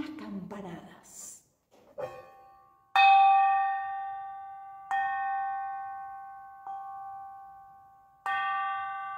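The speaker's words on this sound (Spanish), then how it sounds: "Sonaron unas campanadas." Bell chimes ring out in a slow sequence of about four clear, resonant strikes, each decaying over a couple of seconds, following a brief stretch of spoken narration.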